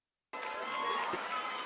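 Boxing arena crowd at a four-round welterweight bout, a dense roar of cheering that rises abruptly and holds loud and steady for over a second.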